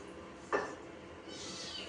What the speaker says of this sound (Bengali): মিয়াও আর খালি বলবে মিয়াও মিয়াও মিয়াও